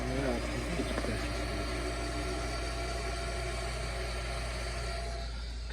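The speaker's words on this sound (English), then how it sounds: "inducer motor starts up, which is great news" A furnace inducer motor running in an attic, a steady low hum with a constant drone and no change in level.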